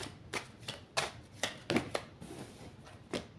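A deck of cards being shuffled and riffled during a card reading, a series of separate soft papery bursts about every half second, close and quiet with no talking.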